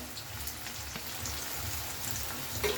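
Crushed garlic frying with onions in a pan for a cauliflower and potato dish, a soft steady sizzle with faint spattering pops, close and quiet.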